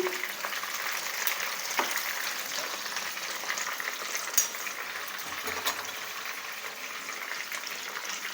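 Murrel (korramenu) fish frying in a pan, a steady broadband sizzle running the whole time with a few small clicks and soft scraping sounds as the pieces are turned, no voices.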